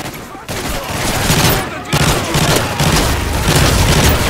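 A sentry gun fires rapid, loud automatic bursts during a Modern Warfare 3 survival match, the gunfire nearly continuous with a brief gap, and no talking.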